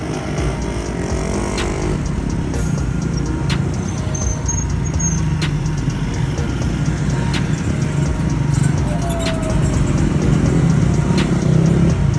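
A group of about six motorcycles rides off together, a loud, continuous mix of engine roar and revving up close, with a few brief higher engine whines over the steady rumble.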